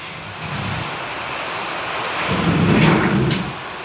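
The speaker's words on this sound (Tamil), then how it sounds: "மழை சத்தம் கேட்குதா? மழை என்ன மழை நண்பர்களே! காற்று ஒரு பக்கம், மழை ஒரு பக்கம்." Heavy rain pours steadily with a broad hiss, swelling louder toward the end as gusts of wind sweep through.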